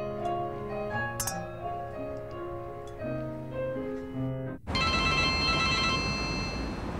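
A phone rings indoors at a restaurant gathering, first as a melodic ringtone over background tones, then turning into a louder, steady ringing that continues to the end.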